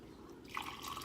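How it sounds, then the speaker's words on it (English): Pan juices trickle and splash over smothered Southern-style pork neck bones, a soft, close liquid pour with faint dripping, quiet and alone. "pour a little of the juices off and just pour it back on top."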